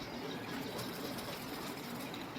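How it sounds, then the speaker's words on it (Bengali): A sewing machine stitching a side seam, a continuous fast mechanical whir and rattle, fairly quiet and even throughout without pauses. "ওই জোড়াটা সেলাই করে নিচ্ছি।"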